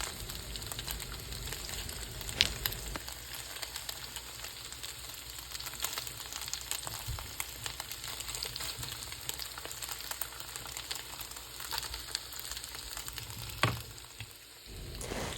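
Trader Joe's cauliflower gnocchi sizzle softly in a hot pan as they are flipped, a low continuous crackle broken by a couple of brief utensil knocks.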